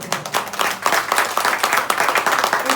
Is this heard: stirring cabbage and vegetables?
no